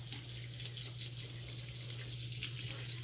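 A makeup brush with foundation is rinsed under a running bathroom sink tap, a steady hiss of flowing water with a low hum, continuous and fairly quiet, no talking.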